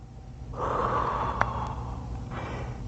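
A single long, breathy exhale through the nose or mouth, close to the microphone, as a person moves through a spinal mobility stretch for football players, trailing off into a softer breath.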